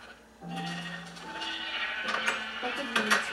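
Several sheep bleat in Minecraft, a video game, from a crowded little pen: a string of wavering, nasal bleats that overlap and follow one another closely and sound fairly near.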